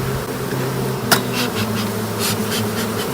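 A swarm of honey bees buzzing in a steady, dense drone close by, with a brief knock partway through.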